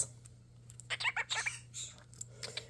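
A cockatiel makes a series of short, bright kissing and chirping noises near the microphone, clustered in a quick burst and then scattered more sparsely over a steady low hum.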